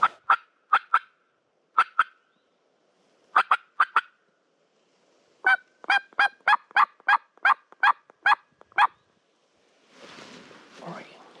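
A wild Florida gobbler on public land is heard during a hunt. A run of sharp, evenly spaced yelping calls comes in close, clipped bursts, then a rolling, rattling gobble sounds near the end.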